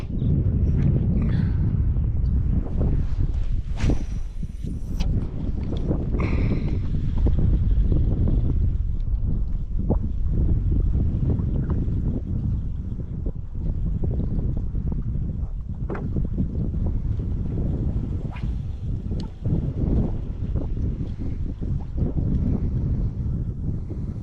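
Wind blows steadily across a fishing boat out on the water during a redfish outing, a loud, constant rushing and buffeting that fills the whole stretch with no talking.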